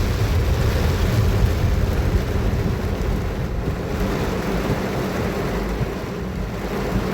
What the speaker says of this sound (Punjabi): ਘੱਟੋ ਘੱਟ 1 ਘੰਟਾ ਹੋ ਗਿਆ ਮੀਂਹ ਇੰਨਾ ਜ਼ੋਰ ਦੇ ਪੈਂਦੇ ਨੂੰ